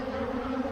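A dense, steady buzzing swarm of honeybees fighting near a hive, a continuous close drone of many wings with no gaps, loud and unbroken throughout the short stretch.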